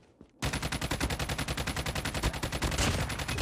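Rapid, loud automatic gunfire in Call of Duty Mobile, a sustained burst of about twenty evenly spaced shots after a brief quiet start.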